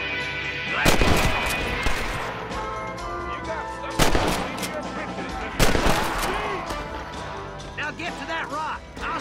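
Gunfire during a shootout among rocks in the Western video game Red Dead Redemption. Three heavy, booming shots ring out at spaced intervals with echoing tails, over a low bed of background noise and a voice.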